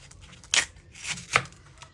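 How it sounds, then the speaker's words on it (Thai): A knife slices crosswise through a raw, firm Nam Dok Mai mango, making two crisp cutting strokes close up, separated by a short pause in an otherwise quiet kitchen. "ก็นำมะม่วงนะคะ มาหั่นแนวขวางแบบนี้"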